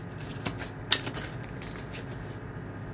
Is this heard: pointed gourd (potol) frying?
no